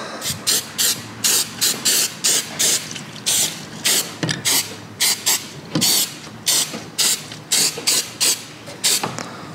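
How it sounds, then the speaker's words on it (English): Repeated short hissing sprays from a can of spray glue, close and loud, in quick regular bursts with brief pauses between them, sprayed onto the bottom of a dollhouse piece. "what I am going to do is spray this bottom"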